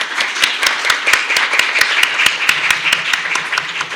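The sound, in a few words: audience applause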